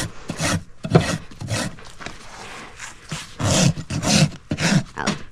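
Rasp filing a horse's front hoof during a trim: repeated rough scraping strokes in steady bursts, close and fairly loud, with a short pause midway before several quicker passes.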